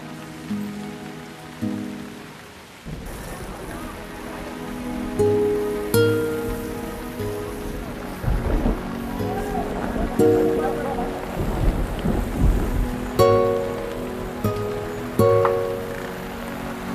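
Steady rain pours down outdoors, a dense hiss of drops spattering on surfaces throughout, with drama music playing over it and brief voices in places.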